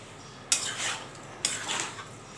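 A utensil stirs vegetable dalia khichuri in a pot, two distinct scraping clanks against the metal, each followed by a short rustling scrape, close and clear.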